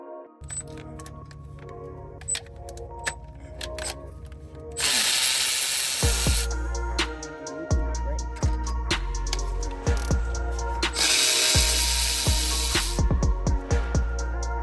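A power tool removes bolts from a 2023 Ford F150 during a Procharger Stage II supercharger install, loud close bursts of whirring and rattling impacts between quieter pauses with small metallic clicks, no talk.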